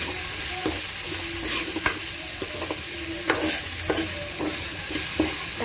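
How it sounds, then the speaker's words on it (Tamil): Tomatoes sautéing in a pan for egg curry sizzle steadily, broken by repeated scrapes and knocks of a spoon stirring, close and fairly loud with no voices. "கொஞ்சம் நல்லா தக்காளி நல்லா மசிஞ்சு வதங்குற அளவுக்கு வதக்கி விட்டுக்கலாம்"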